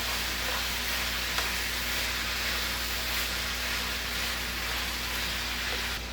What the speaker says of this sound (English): I'm going to add my chunky salsa. I'm going to stir that up real good.